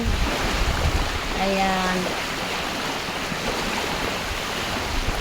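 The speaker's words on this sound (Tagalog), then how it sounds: "So, maingay ang dagat." Sea waves breaking on a Palawan shore where the water deepens close in, a steady loud wash of surf with a brief voice heard over it.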